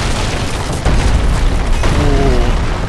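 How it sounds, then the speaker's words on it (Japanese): A tree crashing down in the game Dark Souls III, heard as a loud deep boom and crash that fills the whole moment and keeps rumbling on afterward, with no talk over it. "なんだこれ、木を倒す。"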